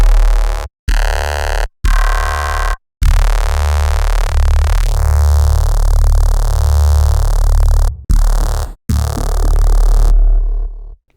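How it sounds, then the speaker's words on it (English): A Reese bass synth passed through heavy convolution makes a loud, dense, droning tone with a thick low end and smeared, swirling upper texture. It plays in several short bursts, then a long sustained stretch, and breaks off abruptly. "If we use this convolution with our Reese sound"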